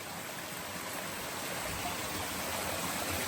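Spring water flowing in a mountain stream, a steady broadband rush that holds constant and fairly close throughout, with no voices.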